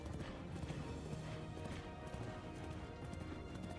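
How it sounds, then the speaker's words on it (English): Horse hooves clip-clop at a steady, quick pace in an animated fantasy series, with a whinny mixed into the clatter. The sound is continuous and fairly quiet, and no one speaks over it. "Your horse, though, is steady going."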